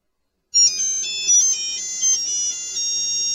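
A phone ringtone starts abruptly after a moment of silence and keeps playing as a bright, high, steady electronic melody with a few louder pulses, loud and close with no talk.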